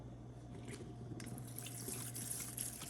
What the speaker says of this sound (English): You pour until it is nice and, like drenched and moist with the alcohol.